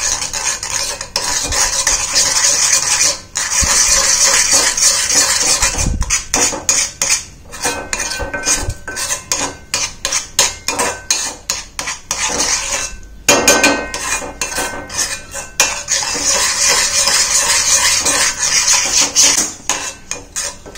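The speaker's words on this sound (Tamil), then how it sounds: "இப்போ இதை நல்லா கட்டிலாம் இல்லாமல் நல்லா மிக்ஸ் பண்ணி விட்டுருங்க" A henna powder mixture for natural hair dye is stirred vigorously in a pot, with repeated close, rhythmic scraping and clinking of a utensil against the container.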